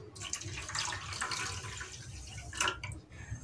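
Water pours into a pan with a continuous splashing rush, close by and moderately loud, with a brief louder gush near the end.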